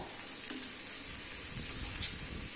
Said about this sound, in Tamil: சேர்த்துட்டு நல்லா ஒரு 3/4 பதம் வேகிற வரைக்கும் நல்லா வதக்கி விட்டுக்கலாம்.